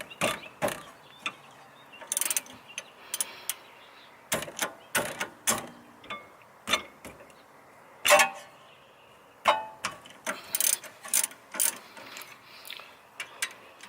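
A wrench works a rear brake caliper bolt on a 2000 Honda Accord, producing irregular bursts of sharp ratcheting clicks and metallic clanks, close by and separated by brief pauses.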